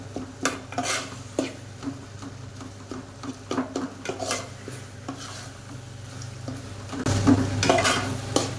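A utensil stirs sardine curry with tomatoes in a pan, scraping and clinking in an irregular rhythm over a steady, close sizzle, with metallic knocks against the pot and no talk.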